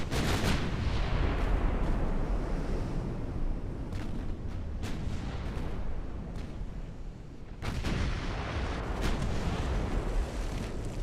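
Warship guns fire in the naval battle game Ultimate Admiral Dreadnoughts, heavy booming salvos that rumble loudly, with sharp reports near the start, around four to five seconds and again after seven and a half seconds.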